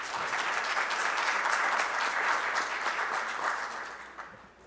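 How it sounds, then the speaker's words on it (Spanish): Dense, steady audience applause fills a lecture hall after a law professor from Seville is introduced, holding strong for about four seconds before tapering off at the end. "Le damos un fuerte aplauso"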